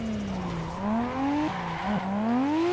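A car drifts in a racing simulator driven on a Fanatec CSL DD wheel, with a steady tire squeal whose pitch wavers and slides, layered over a continuous engine drone.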